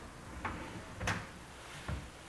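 Cabinet doors are opened and shut, giving three soft wooden knocks and clunks spaced under a second apart against a low room background.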